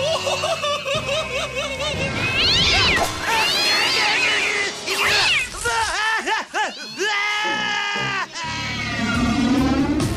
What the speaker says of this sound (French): Prêt à sauver cet adorable petit chaton?